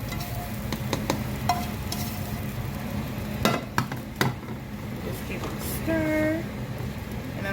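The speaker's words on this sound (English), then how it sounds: "I just gave it a little stir" Cabbage is stirred in fatback grease in a pan: a low, steady sizzle carries a few sharp spoon clinks and scrapes against the pan, and a brief tonal ring comes near the end.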